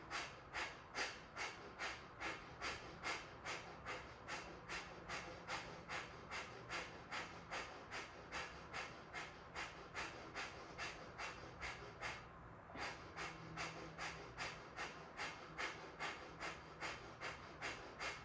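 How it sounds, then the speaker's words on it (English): Kapalabhati yoga breathing: a long, steady run of quick, forceful nasal exhales, about one and a half per second, evenly paced and close, with a brief pause partway through and no talking. "Start a second round of Kapalabhati."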